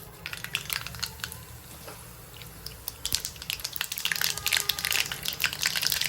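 Mustard seeds dropped into hot oil for tempering dal, crackling and popping in a dense rapid burst that grows louder and busier over several seconds above a soft sizzle, close up.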